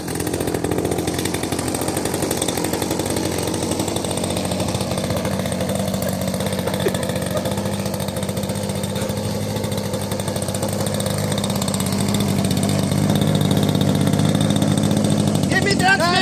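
A small RC model airplane engine idles steadily at an airfield during a safety introduction, a continuous buzzing drone that holds even throughout and swells slightly louder near the end.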